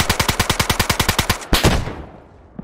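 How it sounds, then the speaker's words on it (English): A teammate fires a rapid automatic burst in DayZ: about fifteen sharp, evenly spaced shots, loud and close, followed by one heavier blast and a fading echo. "Oh, he's shooting."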